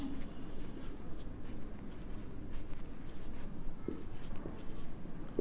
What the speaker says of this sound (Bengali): তাহলে আমরা লিখলাম